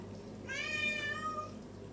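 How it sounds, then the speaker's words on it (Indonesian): A house cat gives a single drawn-out meow, clear and fairly close, over a low steady room hum with no talking. "Dipanggil ngeong dia."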